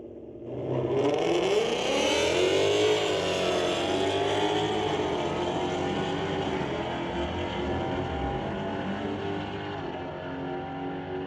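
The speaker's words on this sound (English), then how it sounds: "He races Yuta Mooney in the Ranger pickup" A Mustang and a Ranger pickup launch in a drag race at Mission Raceway, with loud engine roar building quickly and holding steady as the cars pull away.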